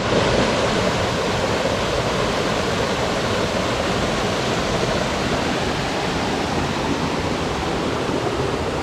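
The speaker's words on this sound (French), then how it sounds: "cet agréable bruit de cascade qu'on entend" Steady, full-bodied rush of a waterfall along a forest hiking trail in an arboretum near Camprieu, a continuous loud wash of falling water with no pauses and no voices.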